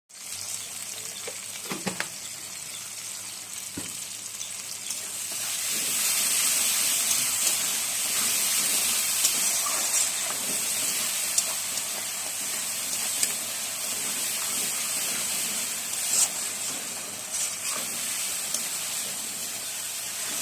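Chow mein ingredients with chopped green chilli and salt fry in a hot pan, a continuous bright sizzle that holds steady for about twenty seconds, with occasional light clicks of stirring, close up and without speech.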